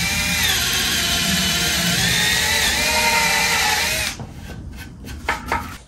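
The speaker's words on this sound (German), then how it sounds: "Es lässt sich auf jeden Fall sehr, sehr gut bohren" Power drill boring into paulownia wood, a loud steady whine with a grinding tone that runs close by for about four seconds, then stops, leaving a few faint knocks and rustles.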